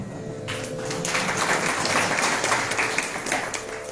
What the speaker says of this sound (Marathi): ह्या टाळ्या त्यांच्यासाठी वाजवायला